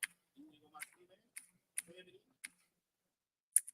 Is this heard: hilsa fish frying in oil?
no